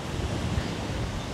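Wind blowing along a long beach at Pattaya, a steady broadband rush with a faint surf wash underneath and no voices.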